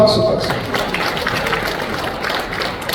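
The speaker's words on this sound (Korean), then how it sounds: "박수" A church congregation at a Korean church New Year gathering breaks into applause, a loud, dense, continuous patter of many hands with murmuring voices beneath.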